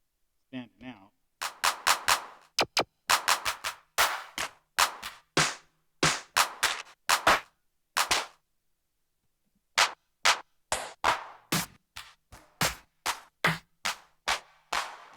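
Short, crisp clap samples triggered repeatedly on an Akai MPC One, snappy hits in uneven clusters with a pause midway, loud and close, alongside a brief bit of speech at the start.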